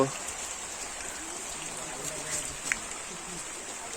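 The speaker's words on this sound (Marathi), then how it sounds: "पाऊस जोरात चालू आहे" Heavy rain pours down in a steady, dense hiss, with occasional louder drips standing out against the constant downpour.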